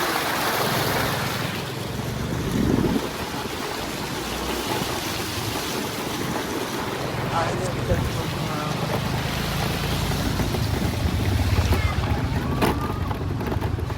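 Heavy, continuous rain pours down in Kathwada, a dense, steady wash of water noise with some wind, while people talk faintly under it.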